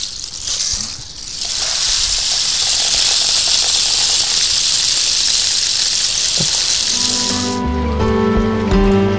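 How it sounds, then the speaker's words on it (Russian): A homemade rain stick, a tube filled with rice, pours a bright, continuous hiss of trickling grains for several seconds. The sound then stops, and clear tonal notes follow near the end. "Если мы засыпем рис, то звук будет гораздо звонче."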